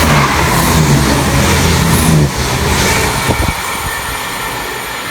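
A Chiltern Railways passenger train roars steadily past up close through Olton station, a loud continuous rumble with rail clatter and a brief horn-like tone, fading slightly toward the end.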